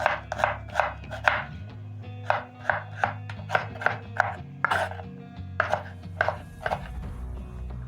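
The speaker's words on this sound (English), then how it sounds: "Chop up my onion." A knife chops a small peeled onion on a cutting board in a steady run of crisp, close thuds with brief pauses, alone and without talk, while cooking pumpkin leaves stew.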